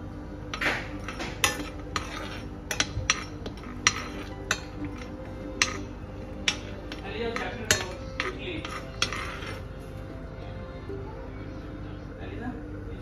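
Cashews, almonds and other nuts drop and rattle into a heated pan for dry roasting, with repeated sharp clinks and scrapes of a utensil against metal, up close.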